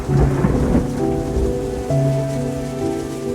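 Steady rain pours down while deep thunder rumbles close by, with a few sustained tones running beneath the downpour.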